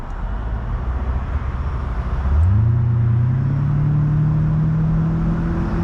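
A 2000 Mercedes-Benz SL600 V12 with an aftermarket muffler hums steadily from inside the cabin while driving, then its engine note climbs and holds a smooth, rising drone as it pulls harder.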